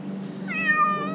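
A stranded cat gives a single drawn-out, plaintive meow, rising and then tapering off, heard close over a low background hum.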